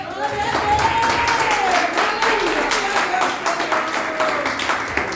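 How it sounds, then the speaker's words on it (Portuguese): Church congregation clapping in rhythm during a worship service, steady hand claps under a loud voice and accompanying sound throughout. "Que as palmas louvem a Deus."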